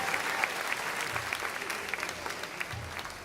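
An audience at a high school graduation ceremony claps for the graduates' families, a sustained, fairly distant patter of many hands with no voices over it.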